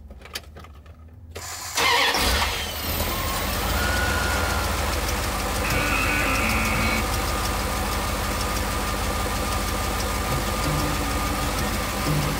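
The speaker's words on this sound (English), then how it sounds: "The engine is back and kicking at full speed." A repaired van's engine cranks and catches after a quiet moment, then settles into a loud, steady idle with a slight knocking rumble that runs close and unbroken to the end.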